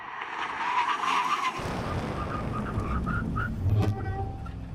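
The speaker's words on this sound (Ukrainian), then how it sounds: "На черзі у нас перевірка гальмів зі 160 км на годину. Перетнувши лінію, починаємо гальмувати." Alfa Romeo Giulia cars, a GTA and a Quadrifoglio, brake hard from 160 km/h on a track, giving a loud roar of engine and wind that shifts into a rumbling tire and road noise with brief squeals.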